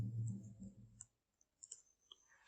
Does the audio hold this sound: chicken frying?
no